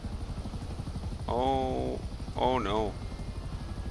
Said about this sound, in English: That's not the police helicopter, is it?